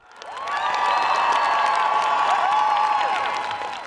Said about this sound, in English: Look at the crowd in Prague in the Czech Republic.